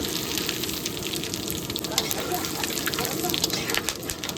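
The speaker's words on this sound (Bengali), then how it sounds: "তেল গরম হয়ে গেছে, এখন আমি ফোড়নে দেবো তেজপাতা, শুকনো লঙ্কা, জিরে আর গোটা গরম মশলা সব।" Bay leaf, dried chili, cumin and whole garam masala sizzle in hot oil in a kitchen beside a pond, a dense steady crackling hiss throughout.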